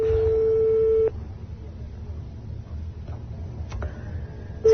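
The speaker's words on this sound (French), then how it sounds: "S'il y a son répondeur, vous allez entendre ce qu'il met sur son répondeur" Telephone answering machine tones: a steady electronic beep holds for about a second, then after a quiet gap another tone starts near the end, loud and close over a low hum.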